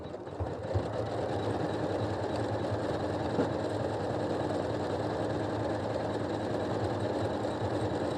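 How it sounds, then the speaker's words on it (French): A Janome Skyline S9 embroidery machine runs steadily through an embroidery pattern, giving off a continuous mechanical hum and rapid needle chatter at close range with no talking. "et on va aller broder"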